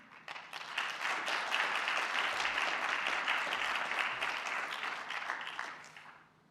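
An audience at a university awards ceremony breaks into sustained applause, a dense wash of clapping that builds quickly, holds for several seconds and tapers off.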